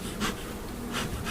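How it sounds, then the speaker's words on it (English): Honey bees buzz at a hive during a honey harvest, a close, continuous droning hum with two brief louder swells as bees pass near. "There's always a few bees that manage to figure out how to come back up."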